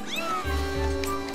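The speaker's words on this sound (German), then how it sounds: "Oh, da ist wieder die Katze." A cat in the video game Skyward Sword gives a single short, clear meow with a rising then falling pitch, alone and close over a steady low game background.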